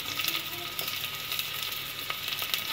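Chopped onions and green chillies sizzle in oil over popped mustard seeds, a steady close hiss with faint stirring ticks and no voices.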